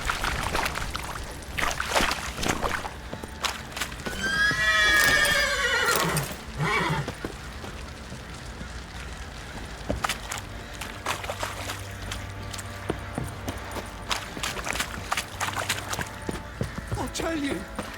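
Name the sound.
horse Roach neighing and galloping in video game The Witcher 3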